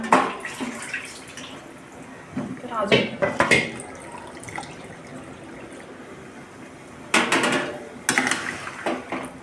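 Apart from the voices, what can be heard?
water being poured into pot of chicken pulao rice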